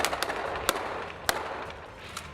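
Gunfire from police and army troops firing on terrorist hideouts in jungle on an island: sharp, sporadic shots, a few louder cracks standing out over a continuous noisy wash of distant firing.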